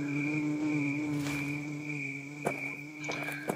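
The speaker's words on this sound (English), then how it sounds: "That buzzing is really annoying." Insects buzz constantly in the video game Malavision: The Origin near a ranger cabin, a steady droning whine with sustained tones and a few sharper clicks or steps partway through.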